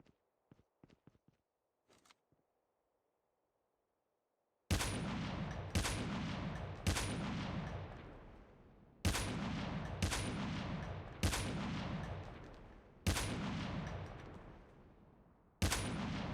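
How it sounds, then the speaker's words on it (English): Gunfire in the mobile battle royale game Call of Duty: Mobile: after a few soft footsteps and a quiet pause, six loud, separate shots ring out at irregular intervals, each with a decaying echo. "I just gave away my position by shooting too much"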